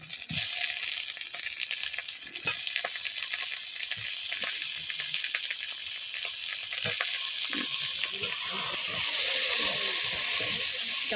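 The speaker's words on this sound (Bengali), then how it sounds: "টমেটোটাও মশলার সাথে ভালো করে ভেজে নেব।" Tomato fries in a pan with garlic, ginger and chilli spice paste for fish curry, a continuous close sizzle with occasional stirring clinks, no talking.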